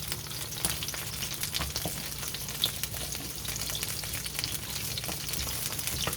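Chunks of sweet potato and garlic sizzle steadily in a skillet, a close, even frying hiss with occasional stirring scrapes and no talking.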